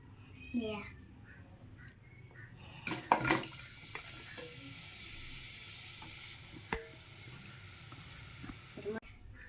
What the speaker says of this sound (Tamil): லைட்டாக சால்ட் போட்டு ப்ரௌன் ஆகிற வரைக்கும் வதக்கிக்கலாம்.